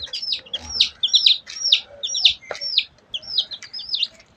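Baby chicks eating starter feed peep in a rapid series of high, bright chirps, close by and repeating steadily, with faint pecking sounds beneath and no speech.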